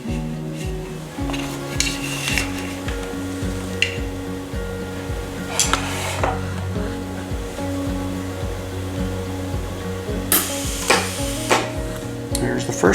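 A budget pulse welder runs short weld beads in a steady buzzing, crackling pulse with a low rhythmic hum, interrupted by brief pauses and sharper bursts of spatter.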